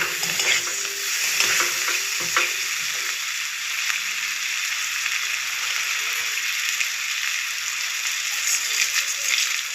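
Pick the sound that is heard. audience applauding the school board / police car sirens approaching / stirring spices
stirring spices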